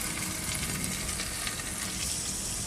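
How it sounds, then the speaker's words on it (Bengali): A little water goes into chicken curry cooking in mustard paste, and the pan answers with a dense, continuous, loud hissing sizzle, heard close with no pauses. "এর মধ্যে অল্প করে জল দেওয়া হলো"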